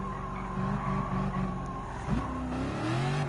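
Racing car engines in Gran Turismo 7's historic sports car race roar and rev loudly while overtaking a silver 1980 Maserati Merak SS, with a tyre squeal and a sharp pitch shift partway through, with no voices.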